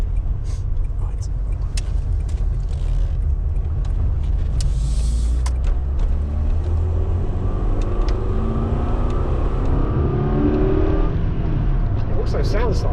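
A small 1.4-litre car engine fitted with a cheap aftermarket performance pod air filter, rumbling steadily and rising in pitch as it revs, heard from outside at moderate distance with a continuous low drone and some wind noise.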